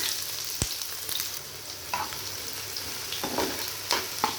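Chopped onions fry in hot oil on a tawa, giving a constant crackling sizzle with several sharp clicks and scrapes from stirring, close and fairly quiet.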